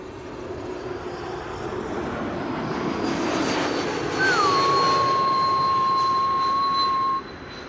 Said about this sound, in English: Next up, KLM flight 1020 arriving from Leeds. That's an E2 Embraer 195.